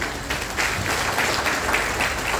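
An indoor audience at a health talk claps in a brief, dense burst of applause that holds steady for a couple of seconds, fairly close and full.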